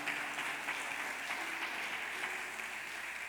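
A church congregation at a Sunday service claps steadily and loudly, a dense, even wash of applause filling the whole stretch with no break.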